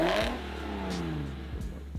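A BMW S54 engine with individual throttle bodies and an opened-up 2M intake kit in a swapped E30, revving with a loud rasping induction note that sweeps up and settles, close by and without talking.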